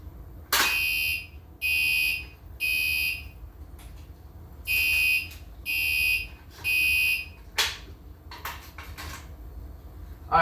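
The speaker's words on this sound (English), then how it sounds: "the horn's going to go off on that one. But anyways, I'll pull this." A Gentex Commander 3 fire alarm horn sounds after a pull station is pulled, blaring in loud, regular beeping pulses nearby, then stopping, followed by clicks and clatter.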